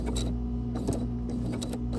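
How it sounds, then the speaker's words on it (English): Raw edge appliqué stitching on an owl quilt with a sewing machine, a steady mechanical hum with faint rhythmic needle ticks running throughout, close and alone. "And then I continue sewing."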